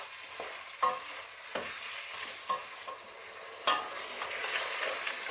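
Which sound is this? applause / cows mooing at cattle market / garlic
garlic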